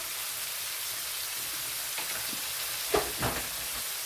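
Canned tomatoes, 400 grams, going into a lamb karahi frying in a pan, with a soft steady sizzle and a couple of brief louder splashes and hisses near the end, up close, no talking.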